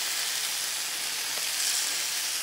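Peppers and onions sizzling on a Blackstone griddle as lime juice is squeezed over them, a dense continuous hiss close up and steady in level, with no voices.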